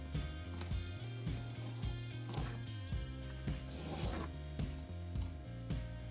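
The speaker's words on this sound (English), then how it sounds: "I'm just slicing along the marked area of the pillars." A knife slices along the marked lines of scratch-built tabletop terrain pillars, making repeated close scraping and rubbing strokes in an uneven rhythm over a low steady hum, with no voices.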